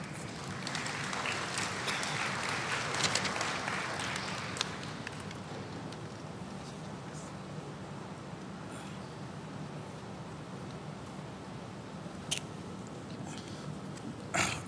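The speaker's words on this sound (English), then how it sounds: "please give them a round of applause" Crowd applause at a university Black History program for a spirit team, loud and dense at first then thinning into a lighter, continuing patter with scattered louder claps.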